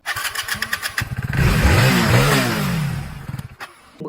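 Motorcycle engine revving up hard and holding a high, rising roar for a couple of seconds, then dropping back to idle; loud and close, with no talk.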